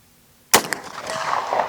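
A single sharp, loud rifle shot from a Chiappa 1892 Alaskan lever-action cracks close by after a moment of quiet, followed by a short echoing tail.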